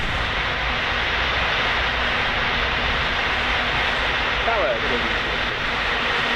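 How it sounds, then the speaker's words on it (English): Jet engine roar of a British Airways airliner taxiing in Microsoft Flight Simulator 2020 at Toulouse airport, a steady broad rumble and whine holding level throughout, with a brief faint chirp near the end. "Another British Airways taxiing passes."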